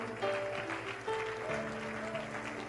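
Congregation clapping during a Pentecostal church service, steady applause mixed with sustained musical tones underneath.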